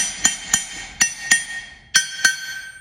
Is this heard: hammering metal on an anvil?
yes